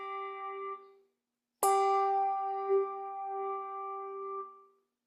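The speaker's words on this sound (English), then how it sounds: "That extra sound you heard was the clapper head coming back and striking again because the bell was being moved like that" Handbell struck and moved, ringing with a clear sustained tone, then a sharp second strike as the clapper bounces back, leaving a long ringing decay; the earlier tone cuts off before the second strike.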